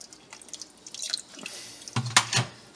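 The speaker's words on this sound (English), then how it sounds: "Gonna just kind of rinse the squeegee here." A squeegee is rinsed in a kitchen while making pepper sauce: close, brief splashes and drips of water, small irregular trickles that end in a couple of stronger splashy bursts.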